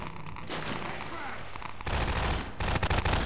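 Bursts of rapid automatic gunfire in the Half-Life 2 video game, starting sparse and turning into loud dense fusillades in the second half, with a voice speaking partway through.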